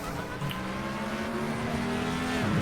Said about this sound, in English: Michelle Chung there, spinning out under the safety car